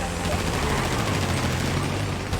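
Rapid gunfire from GTA 5, shots fired from atop a parking garage, a dense, loud, continuous burst of automatic fire with no pauses, and a voice mixed in.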